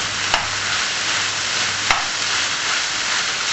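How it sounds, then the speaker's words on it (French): Marinated beef stir-fried with oyster sauce and ginger sizzles in a pan, a loud, even hiss over the whole stretch broken by two sharp utensil clacks, close up and with no voices. "Puis mélangez le tout homogènement."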